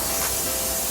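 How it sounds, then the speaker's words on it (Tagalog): Palm oil cooking spray hissing from a can as it greases a steamer for siomai: one steady, close, bright spray of about a second, alone without talk. "Para hindi dumikit yung ating siomai, i-grease natin siya nitong palm spray."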